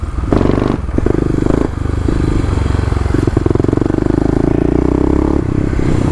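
A Kawasaki KLX351 dirt bike with Pro Taper bars climbs a hill in second gear, its single-cylinder engine loud, close and labouring continuously, with clattering and scraping mixed into the drone.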